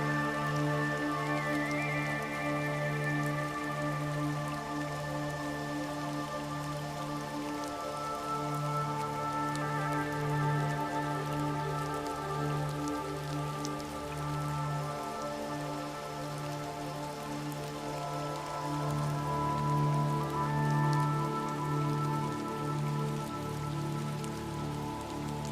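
Steady rain falls on the wide steps and stone surfaces outside an ancient temple in Alexandria, a dense continuous patter under heavy clouds, even and unbroken with no voices.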